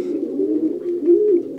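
Racing pigeons coo inside a loft in low, soft, continuous murmuring tones close by, with no other sounds.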